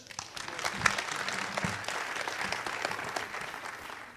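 Applause from a workshop audience for pastors and church groups fills the room, a dense patter of many hands clapping close by that holds steady for about four seconds with a few sharper claps.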